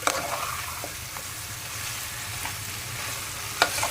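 Chicken curry with coconut powder stirred in a hot pan, a steady sizzle and frying hiss with soft scraping stirs and one sharper knock near the end, close and without speech.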